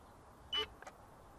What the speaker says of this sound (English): you'll hear it beep and it'll return to home